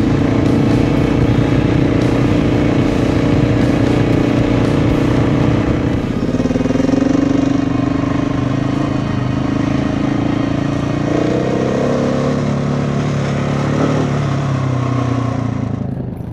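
An off-road motorcycle runs on an asphalt road past small villages in the Agrafa mountains of Greece, its engine a loud, steady, close drone throughout with slight shifts in pitch as it rides.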